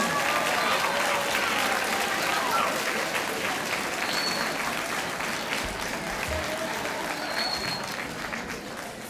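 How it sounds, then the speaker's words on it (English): Applause from an audience welcoming distinguished guests at a Red Ribbon kickoff event, a steady dense patter of many hands sustained throughout, with faint crowd murmur underneath. "Will you just please stand so we can give you a round of applause?"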